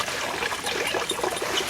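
Water trickles and splashes steadily over a Labrador named Cutter being rinsed outdoors, a continuous close, moderately loud pouring sound with no talking.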